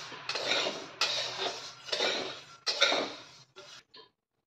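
Coriander seeds rattle and scrape against a metal pan as they are dry-roasted for goda masala, in several close bursts of about a second each with brief pauses between, then fading out.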